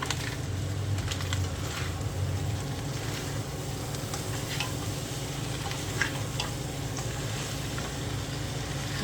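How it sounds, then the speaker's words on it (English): Taco seasoning and butter stirred in a hot skillet, a steady close sizzle and fry with light scraping and ticking of the stirring utensil throughout, no talking. "Just need to get that stirred up in there really good."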